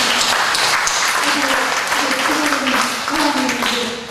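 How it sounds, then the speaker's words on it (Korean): A church congregation at a Sunday worship service claps together in steady, dense applause that holds evenly loud throughout. "박수 합니다"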